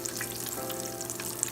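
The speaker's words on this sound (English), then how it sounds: "So been frying them for about 5 minutes now on each side." Puerto Rican stuffed potatoes (rellenos de papa) fry in hot oil, giving a steady close sizzle with fine crackling pops and a constant hum throughout.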